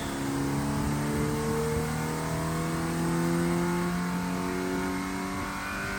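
A car engine revs steadily on a chassis dyno with its stock airbox fitted, a loud, continuous drone with rising harmonics as the revs climb over several seconds, alone with no talk.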